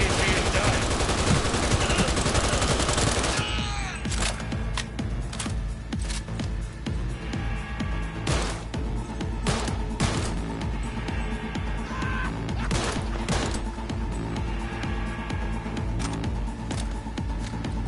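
Heavy gunfire in a Cyberpunk 2077 firefight, a sustained dense barrage of automatic shots that gives way to loud separate bursts and single cracks, with a continuous roar of effects underneath.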